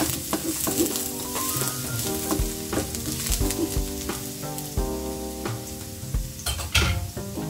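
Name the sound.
garlic sizzling in a frying pan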